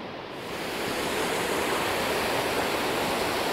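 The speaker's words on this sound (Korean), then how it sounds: "그 밑으로 또 폭포가 흐르고 있고요." A waterfall roars steadily at Ssangsaeng twin falls on Naeyeonsan mountain, Korea, a dense rushing wash of falling water that grows slightly louder and stays constant throughout.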